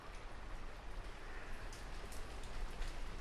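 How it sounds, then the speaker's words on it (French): Heavy rain pours down in a steady, dense downpour, a continuous broadband hiss of drops drumming on surfaces with no pauses, fairly close and even in loudness throughout. "Il pleut des trombes."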